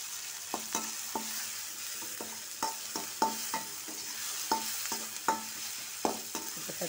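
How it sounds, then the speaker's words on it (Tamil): Onions and tomatoes sautéing in a pan for a brinjal poriyal, a soft steady sizzle under repeated sharp clicks of a spoon stirring against the pan. "ரெண்டு வெங்காயம் கொஞ்சம் நல்லா வதங்கி தக்காளியெல்லாம் மேஷ் ஆகட்டும்."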